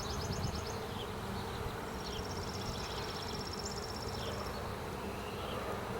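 Honeybees buzz steadily in an open deep brood box during a hive inspection, a continuous close hum with higher whining tones drifting in and out, with no talk.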